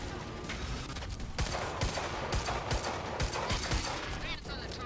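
Sharp bursts of gunfire ring out in the shooter game Quantum Break, several rapid shots in quick clusters over a dense, busy backdrop of game sound.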